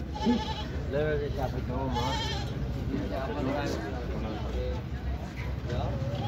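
Goats bleating at a livestock market, close and loud, with several wavering calls overlapping someone talking and a steady background hum of crowd noise.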